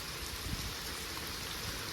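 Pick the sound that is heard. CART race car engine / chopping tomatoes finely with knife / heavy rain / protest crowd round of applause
heavy rain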